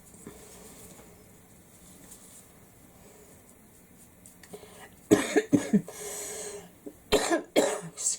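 After a quiet stretch, a person with a cough lingering since the flu breaks into two close, loud fits of harsh, repeated coughing, each a cluster of several sharp bursts.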